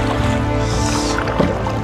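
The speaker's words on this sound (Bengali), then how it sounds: "নৌকাটা চালাচ্ছি।" A fairly big wooden boat being rowed on the Brahmaputra by a char, a close steady wash of water against the hull with a low rumble and a brief knock partway through.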